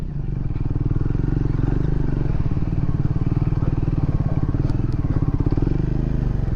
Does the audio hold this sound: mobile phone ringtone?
no